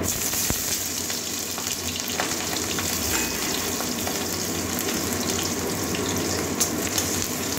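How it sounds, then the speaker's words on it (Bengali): Chopped onion and green chilli frying in oil in a pan with whole cumin and a bay leaf, a steady close sizzle with occasional stirring scrapes running throughout, no talking. "পেঁয়াজটা কাঁচা লঙ্কা দেওয়া পর্যন্ত ভাজবো।"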